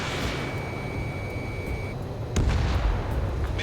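A radar vehicle explodes in the Ace Combat 7 flight game, a sudden heavy boom bursting out of steady engine rumble and a fading tone, then rolling on loudly for about a second.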